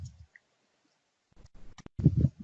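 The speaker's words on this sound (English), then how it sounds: "Now you get to see my terrible typing skills." Computer keyboard typing comes as a short, sparse run of crisp key clicks in a quiet room, followed by a brief low rumble.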